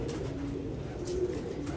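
A pigeon coos softly in a low, rolling murmur over a steady background hum, one drawn-out call lasting a second or two.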